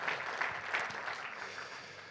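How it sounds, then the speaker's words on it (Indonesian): Applause from a church congregation, a dense patter of clapping that holds steady and then tapers slightly toward the end. "Kita kasih tepuk tangan buat kemuliaan nama Tuhan."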